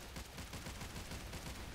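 A Royal Warfighter SMG in the video game Battlefield Hardline fires a rapid, continuous burst, a dense, loud stream of shots packed so tightly they blur together, with no voices.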